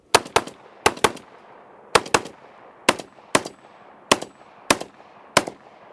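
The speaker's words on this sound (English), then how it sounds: "Will, what are your initial impressions of that shotgun? Very soft shooting" A Genesis 12 competition shotgun fires a series of loud, close shots, mostly in quick pairs with short gaps between them, with no talk over the reports.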